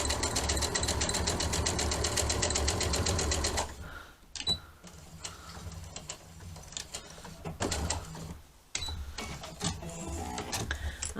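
A sewing machine stitching fabric for an owl clock, running in a fast, steady rattle for a few seconds, then stopping and restarting in short bursts and brief back-and-forth stitches, close and loud without talk.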